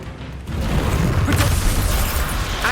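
A Levioso levitation spell from Hogwarts Legacy goes off with a dense, rumbling magical whoosh that swells after a brief quieter start and holds loud and full to the end.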